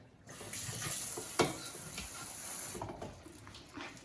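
Water hisses steadily as cooked rice is drained and rinsed in a sink, a constant near rush with a small clatter partway through before it quiets.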